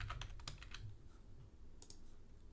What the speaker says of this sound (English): I'll type in the word pizza.